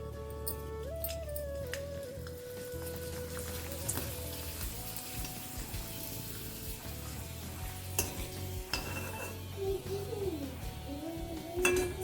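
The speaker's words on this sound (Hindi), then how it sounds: "इसको फटाफट से तलते हैं" Homemade potato chips frying in hot, smoking oil in a home kitchen, a steady sizzling hiss running throughout with occasional stirring scrapes and clinks, close and moderately loud.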